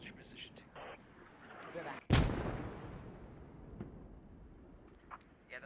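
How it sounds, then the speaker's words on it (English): A mortar round in a video game fires and then explodes with a single loud boom and a long rumbling decay, amid faint background clatter, with someone talking. "they're using their actual mortar rounds"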